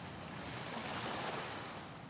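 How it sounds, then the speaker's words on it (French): Wind-driven waves and surf roll continuously at sea over a shallow dive site, a broad steady wash of noise with gusty wind rumble and no talk. "Le vent soulève les vagues"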